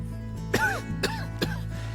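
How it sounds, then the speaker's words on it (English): Three short, sharp coughs spaced about half a second apart, close and fairly loud, with a faint constant hum underneath. "I walked towards Simon and took a drag. I coughed."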